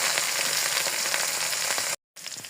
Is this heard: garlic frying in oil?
yes